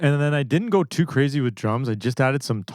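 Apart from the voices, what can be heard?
None of the usual background noises is heard.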